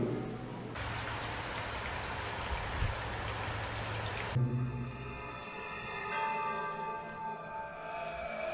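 Heavy rain pours down at night around a house in a horror drama, a dense, steady hiss that cuts off abruptly and gives way to a quieter backdrop of chirping crickets and insects.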